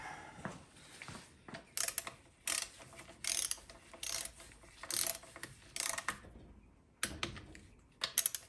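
Torque wrench tightening bolts during final assembly of a Ford C6 transmission rebuild, heard as a string of sharp ratcheting clicks in short irregular bursts, close and fairly quiet, with no talking.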